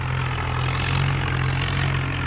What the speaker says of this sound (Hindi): अब महिंद्रा वाला आ रहा है